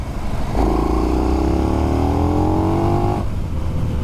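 A 2020 KTM Super Duke R motorcycle engine roars up hard, its pitch climbing steadily for a few seconds before cutting off abruptly, loud and close over steady wind noise.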